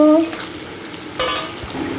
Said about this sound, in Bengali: এবার দেব পেঁয়াজ তো এটাকে ভালো করে ভেজে নেব